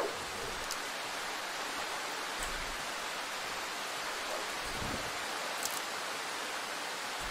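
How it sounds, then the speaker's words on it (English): Steady rain hisses in the survival horror game Darkwood, an even, unbroken wash of falling water with no talking. "Damn, I didn't think this game would have rain in it."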